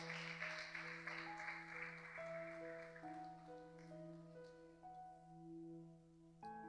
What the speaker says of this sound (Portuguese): Bate palmas para Jesus, essa merece.